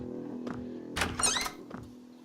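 A door being unlocked with a key in the horror game Eldritch: a soft thunk, then a brief rattling burst of mechanism clicks, and another faint knock, close and alone over a low ambient hum.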